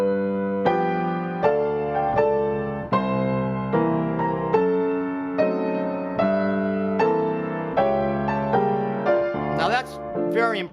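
Stride piano plays a reharmonized passage of a song from measure 10, with steady alternating bass and chords under a melody, ending on a bright upper run, solo piano with no talking.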